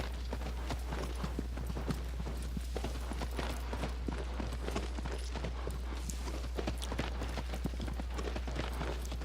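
Horse hooves clip-clopping at a steady trot or gallop in the video game Shadow of the Colossus, a continuous rhythmic drumming of hoofbeats over a low constant hum, with no talk.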